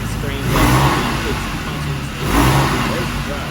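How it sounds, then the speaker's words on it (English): A Porsche 997 911 engine roars from the rear of the car in two loud surges, with someone talking over the sound. "Makes amazing sounds. Sounds are coming from the backside of this car."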